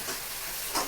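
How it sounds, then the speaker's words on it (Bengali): Mutton kosha pieces frying in a pan in a home kitchen, a steady broadband sizzle throughout with a brief louder hiss near the end, no voices. "ভাজছি, ভাজো ভাজো।"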